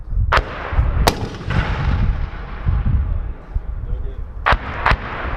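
Mortar rounds fire at a military range, four sharp reports spaced apart over a steady rumble of wind and distant noise, with faint voices in the background.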